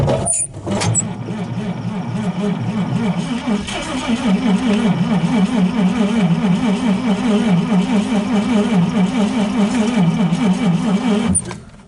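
A 1939 Chevrolet Master 85 barn find engine idles and runs steadily, a loud close rhythmic chugging that holds for several seconds before cutting off.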